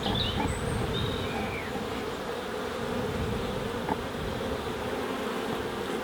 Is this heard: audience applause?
no